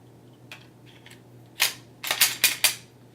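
Metal parts of a Glock 23 pistol being put back together, a few faint clicks followed by a cluster of sharp, loud snaps and slide clacks near the end.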